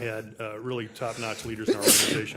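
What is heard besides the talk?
sneeze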